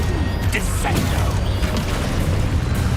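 Descendo slam spell in Hogwarts Legacy striking its target: loud, heavy impacts with crashing thuds and mechanical creaks over a constant deep rumble, several sharp hits scattered across the moment.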